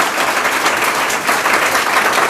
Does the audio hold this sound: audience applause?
yes